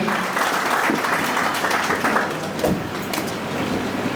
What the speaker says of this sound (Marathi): एकदा जोरदार टाळ्या झाला पाहिजे सरांसाठी